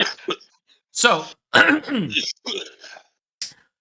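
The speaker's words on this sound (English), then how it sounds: "So much coughing." Coughing and throat clearing, several rough bursts in quick succession with brief spoken words mixed in, close and fairly loud.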